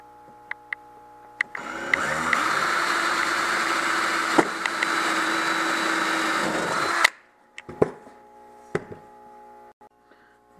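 A self-tapping metal screw is driven into an aluminum frame with a power drill, giving a steady whirring buzz of about five seconds, followed by a few light clicks and taps.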